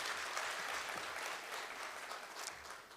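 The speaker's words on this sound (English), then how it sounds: "Please, a round of applause." Conference audience applauding in a hall, a dense, even wash of many hands clapping at once that holds steady for the full few seconds.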